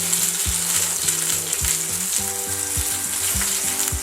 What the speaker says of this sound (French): Et bien sûr, on n'oublie pas de l'ail. Voilà, ma viande est bien grillée.